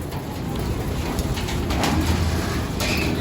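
Racing pigeons coo inside a loft, soft throaty calls close by amid a busy rustling background, with no clear talk.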